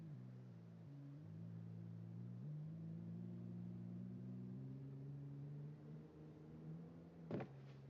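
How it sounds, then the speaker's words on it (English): A car engine in the zombie survival game Project Zomboid, giving a low, steady droning rumble that rises and shifts in pitch, with a brief rattle near the end. "I hear a car again."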